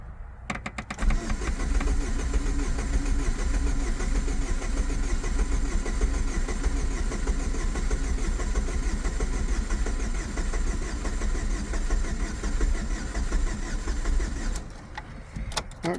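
The engine of a 2005 Chevrolet Cavalier cranks slowly and steadily for about fifteen seconds without catching, a loud, close, continuous churning starter sound with no talk over it.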